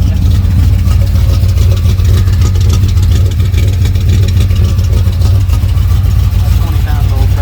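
A car engine with new spark plugs idles loudly and steadily close by, a continuous low rumbling drone that holds an even, throbbing pulse throughout.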